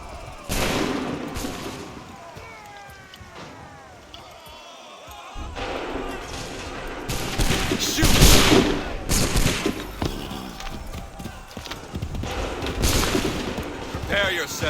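Musket volleys crack out in Assassin's Creed 3, heavy bursts of gunfire alongside shouted commands and battle noise, loud and reverberant over a continuous din.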